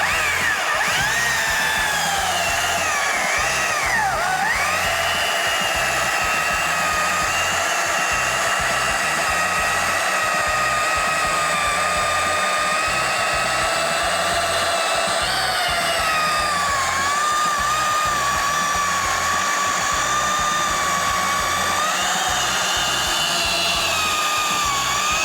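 An MSA 300 battery chainsaw runs steadily and loudly at close range throughout, a continuous high whine with slight pitch dips as it bites into the cut, and no voices.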